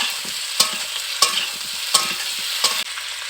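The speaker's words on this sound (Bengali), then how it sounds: "এর মধ্যে ভেজে রাখা সবজিগুলো দিয়ে দেব, একটু ভালো করে মিশিয়ে নেব।" A spoon scrapes a pan four times in an even rhythm, stirring fried vegetables into a sizzling koi fish curry. Steady frying hiss runs underneath and no one speaks.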